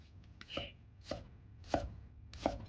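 Knife cutting ginger into thick pieces on a board, four distinct, close, crisp chops spaced about half a second apart, no speech.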